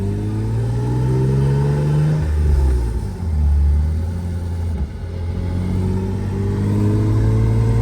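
A Lexus IS300's engine runs rough at close range, a low uneven rumble that surges and dips as it revs, with no voices over it.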